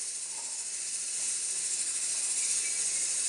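Coffee with tulsi leaves and coffee powder boiling in a pot, giving a steady, close hiss and sizzle that holds without a break.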